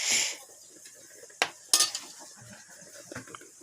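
String beans tumble into a boiling pot of dinengdeng with a few clattering knocks and rustles, followed by light stirring against the pan.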